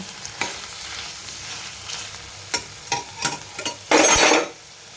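A ridge gourd curry with oil cake powder and salt is stirred in a pan. Several sharp scraping strokes cut through a soft background sizzle, ending in a longer, louder scrape nearby.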